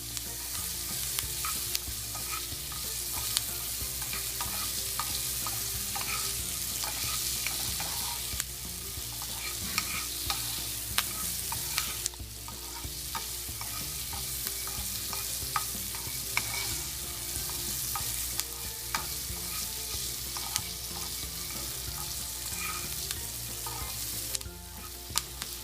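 Quail eggs frying with curry leaves in a pan, a steady dense sizzle and crackle running throughout at close range with small spatters, no voices.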